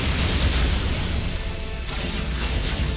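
Weapon barrages strike a ship in a Galactic Civilizations 3 space battle, a dense, loud wash of booming impacts and crackling bursts that barely lets up, with a short dip partway through.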